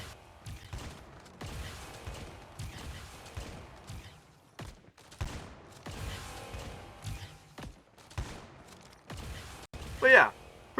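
A double-barrel shotgun fires in Call of Duty Mobile, a series of sharp, punchy blasts spaced a second or so apart, with someone talking over the shots.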